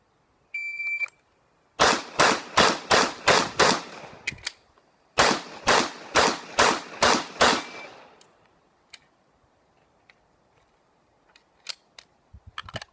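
Pistol shots during single stack shooting practice, preceded by a timer beep, then two rapid strings of about six sharp cracks each separated by a short pause, loud and close with echo tails, followed by quiet scattered clicks.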